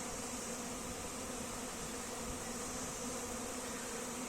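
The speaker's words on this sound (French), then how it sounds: "Un essaimage en direct." A honeybee swarm arrives at a trap hive, a dense continuous buzzing drone of many bees filling the whole clip, loud and close with no talk.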